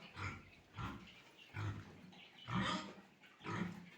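Pigs on a farm give a series of five grunting, snorting bursts in an irregular rhythm, fairly close and fairly quiet, with no talk over them.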